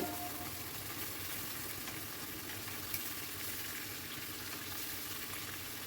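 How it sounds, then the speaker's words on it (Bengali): Chicken pieces frying in hot oil for a chicken and egg dish, giving a steady, dense sizzle and crackle that runs unbroken and close throughout, with no talking. "বোঝাই যাচ্ছে যে চিকেনটা অনেকটাই ফ্রাই হয়ে গেছে"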